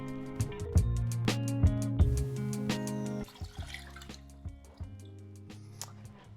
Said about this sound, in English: That is the water going back in the tank right now.